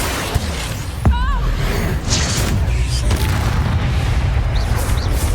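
Explosive Bombarda spell blasts in Hogwarts Legacy combat, a sharp booming burst near the start followed by a dense, continuous rumble of magical combat effects and impacts.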